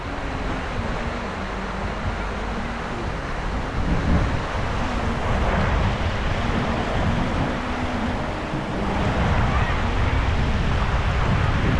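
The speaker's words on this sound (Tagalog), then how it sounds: "Babaw lang dito para malakas ang agos." Strong current of a shallow river rushing steadily over the bed, a dense broadband roar that stays constant throughout, close and loud with some wind buffeting, no voices.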